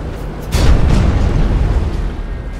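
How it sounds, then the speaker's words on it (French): A big aircraft cannon fires in World of Warplanes, a heavy booming burst that kicks in abruptly and rolls on as a dense rumbling barrage, loud and close. "Gros canon, ou canon gros"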